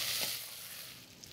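Garlic and white beans sizzle and fry in a hot pan, a steady close hiss that flares briefly near the start and then settles into an even crackle with no voices.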